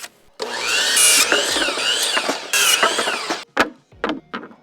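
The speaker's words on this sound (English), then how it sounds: "And then we'll just go ahead and screw these guys in" Power drill driving screws into wooden decking boards for a firewood storage shed: two long whirring bursts with rising and falling motor pitch, loud and close, followed by short clicks and brief tool bursts.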